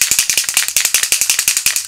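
A Dior Airflash foundation spray can is shaken, its mixing ball clacking in a fast, steady rhythm of about twenty close, crisp rattles in under two seconds.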